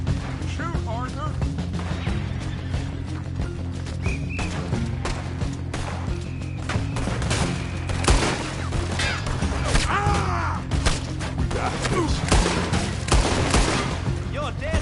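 Frantic gunfire in the Red Dead Redemption 2 game, with sharp shots and crashes popping through a dense, continuous battle din while people talk and shout over it.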